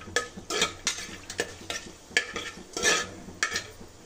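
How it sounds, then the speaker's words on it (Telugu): Whole spices and cumin seeds frying in a pan for chicken biryani, a soft sizzle punctuated by rhythmic scraping strokes of a spoon against the pan, close and regular. "దీన్ని కొంచెంసేపు ఫ్రై చేసుకోవాలండి. కొంచెం జీలకర్ర వేసుకోవాలండి."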